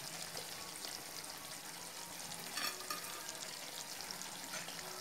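Chicken changezi garnished with green chillies and coriander is stirred in a pan: a soft, steady sizzle with light scraping, fairly quiet and close, no voices.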